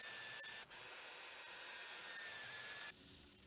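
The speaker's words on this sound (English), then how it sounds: "The outside and the lid are sanded to 600 grit." Sandpaper at 600 grit rubs against a turned wooden lid spinning on a woodturner's lathe, a steady fine hiss that runs evenly with a couple of brief dropouts before it abruptly quietens near the end.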